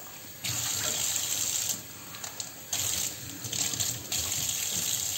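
Tap water gushes steadily into a bathroom sink during cleaning, loud and close, briefly cut off and restarted a couple of times as the flow is interrupted.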